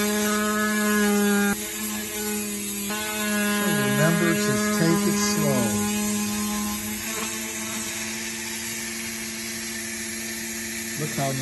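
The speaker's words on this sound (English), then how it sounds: "Now I'm going to take it over to the Dremel again." A Dremel rotary tool grinds inside a tube for a backpack build, a steady high whine that rises and falls in pitch as it works, fairly loud throughout with a brief dip near the start.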